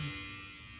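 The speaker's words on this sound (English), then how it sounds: "So I'm assuming that this is going to be the regular shaver." A Voyor ES500 electric shaver from a hair removal set runs with a steady, close electric buzz and hum, unbroken for under a second with no voices.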